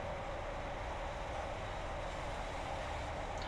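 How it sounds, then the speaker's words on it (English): Steady rumble of a train coasting downhill in Train Simulator 2018 on the Carlisle to Glasgow route, a continuous broadband rolling noise with no distinct events, moderately loud and unbroken throughout. "Just let the train coast."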